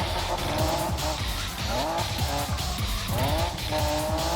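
A car drifting in Need for Speed 2015, engine roaring loud and close while the tires squeal and skid in repeated sweeping arcs as the revs rise and dip, with no one talking.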